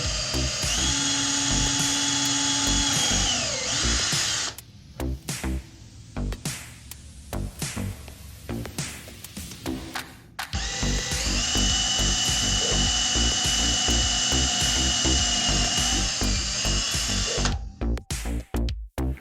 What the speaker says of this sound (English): Making these holes accurately is very easy using special wood drill bits.